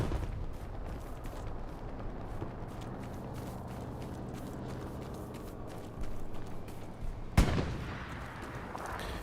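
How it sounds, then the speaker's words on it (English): A rocket fires during a competitive Hell Let Loose match on Omaha Beach, one sharp blast cutting through a steady rumble of distant gunfire and artillery near the end. "Rocket."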